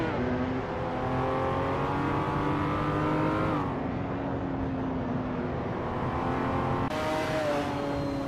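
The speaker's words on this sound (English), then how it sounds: "The race is underway at Bristol Motor Speedway" Race cars in a video game roaring off the start at Bristol Motor Speedway, including a 2018 Ferrari F8 Tributo, a loud continuous engine drone with rising revs and gear shifts.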